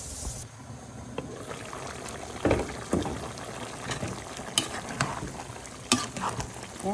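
Meat softening in a pan under steady stirring, with a continuous sizzle and bubbling bed and sharper scraping strokes of a spoon against the pan every second or so.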